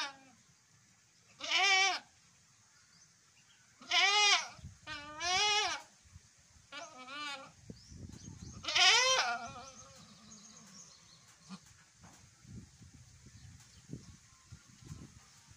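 A goat close to giving birth bleats loudly in several long, wavering cries with pauses between them, followed by softer scattered rustling and small noises.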